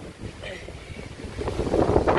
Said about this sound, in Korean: 바람이 많이 붑니다.